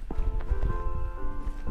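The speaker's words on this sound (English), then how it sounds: "I heard footsteps." Quick footsteps in Call of Duty Mobile, a short run of soft regular thuds heard against a humming background with no talk.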